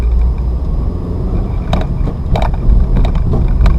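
A manual-transmission car pulls away from a start after the clutch comes up, a low engine rumble building with road and drivetrain noise, close and steady with a few sharp clicks and knocks toward the end.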